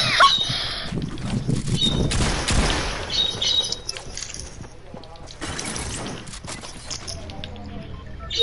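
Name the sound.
birds chirping in a video game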